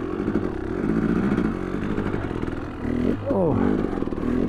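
A dirt bike on Trelleborg Mitas studded tires churns through fresh powder snow, its close engine buzzing and revving in surges with a brief dip and rise, while a rider talks over it.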